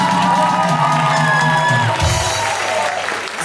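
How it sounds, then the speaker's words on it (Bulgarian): Wedding guests applaud and cheer loudly for the bride's team, dense clapping mixed with whoops and shouts from a close crowd, fading slightly at the end. "Аплодисменти за отбора на булката."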